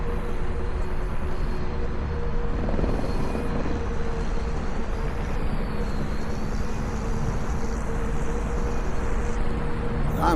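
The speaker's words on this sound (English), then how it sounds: "I'm flying a life-size helicopter now." Helicopter rotor and engine sound from a mixed reality RC helicopter game on Quest 3, a continuous, steady drone with a faint whine throughout.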